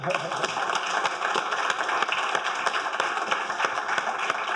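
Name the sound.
audience applause at launch event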